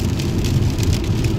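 Heavy rain pours down outside in a loud, constant hiss of drops, with a low rumble underneath that may come from passing traffic.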